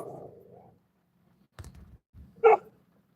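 A dog barks once sharply and loudly, after a low muffled sound and a brief thump, with quiet pauses around it.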